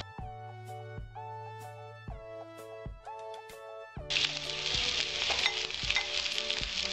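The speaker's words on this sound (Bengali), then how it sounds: "এবার আমি চিড়েটা কড়াইতে দেব।" Flattened rice (chira) hits a hot wok after a few seconds of soft tonal music, setting off a loud, steady sizzle with scattered crackles that runs to the end.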